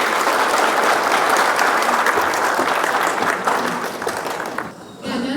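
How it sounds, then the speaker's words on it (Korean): An audience applauds to welcome the first speaker at a corporate tech talk event, dense steady clapping filling the hall loudly before tapering off near the end. "큰 박수 부탁드릴게요"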